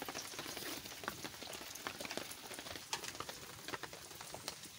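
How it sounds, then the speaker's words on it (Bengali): Mustard oil heating in a hot pan for a vegetable curry, giving a steady soft crackle and fizz with scattered sharp pops throughout, no voices. "সর্ষের তেল দিয়ে দিচ্ছি।"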